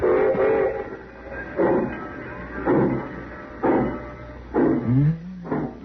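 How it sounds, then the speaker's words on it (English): A train rumbles with rhythmic, repeated chugging bursts and a brief whistle-like tone near the end, heard at a moderate distance without talk. "train pulling out right on time for once"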